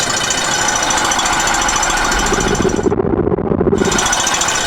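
A Suzuki DF15 outboard motor runs in reverse after a repair, giving a loud, steady, rapid mechanical chatter close by with no break and no voices.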